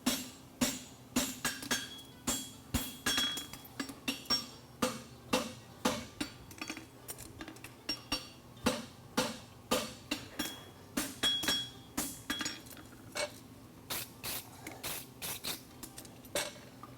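A blacksmith hammers the toe of a diamond toe hind horseshoe on an anvil at a championship, sharp ringing metal strikes in a steady rhythmic series, some paired and quicker, close and loud throughout.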